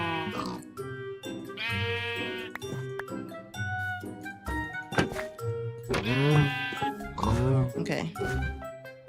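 Sheep bleating in the video game Minecraft: repeated wavering bleats from several animals, close and clear, mixed with soft thumps and a person talking over the game sounds.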